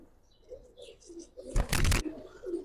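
Pigeons, including a fully neck-ringed Quran-breed bird, give low soft coos over quiet ambience, followed by a louder burst of rustling or wing flutter near the middle, with no talking.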